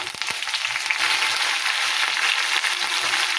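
Curry leaves hitting hot oil for vermicelli upma, a steady, close, crackling sizzle that holds evenly for the whole stretch, with a few sharper pops near the start.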